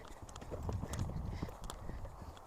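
Horse hooves clip-clop steadily in quick, close rhythm while a rider works transitions and figure eights, the footfalls fairly soft and continuous throughout.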